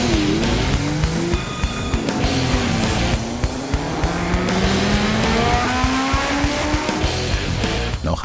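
Classic race cars climb the winding mountain road to Arosa during a vintage hillclimb event, engines revving loud and continuous with rising and falling pitch as they shift and wind up through bends.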